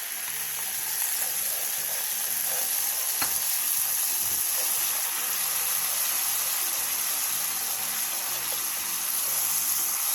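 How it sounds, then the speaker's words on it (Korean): Seasoning sauce simmering on low heat in a lightly oiled pan, giving a steady, even sizzle and bubbling hiss close by that holds unbroken throughout, with no voices. "팬에 기름을 살짝 두른 뒤 양념을 부어 약불에서 끓여주세요."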